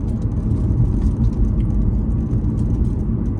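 A car drives near a college campus, a steady low rumbling road and engine drone heard from inside, continuous and even with no talking.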